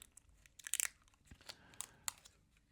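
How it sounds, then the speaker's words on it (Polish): Several short, sharp tearing and crackling bursts of ordinary adhesive tape being pulled from a roll, close up, with quiet pauses between. "Wezmę teraz taśmę zwykłą, klejącą"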